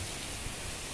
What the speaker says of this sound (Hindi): ये देखिए कितनी तेज़ बारिश हो रही है।